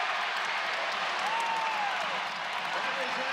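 Crowd cheering and applauding at a college basketball game between Nevada and Utah State, a dense continuous roar of the arena filling the whole stretch, with a commentator's voice faintly underneath.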